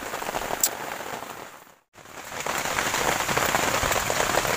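Steady rain pours on a forest campsite, a dense continuous patter with one brief dropout before the downpour resumes at full strength.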